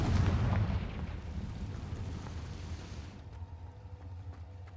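A Confringo fire spell explodes in the Hogwarts Legacy video game, a heavy low boom at the start that rumbles and slowly fades over several seconds, with no voices.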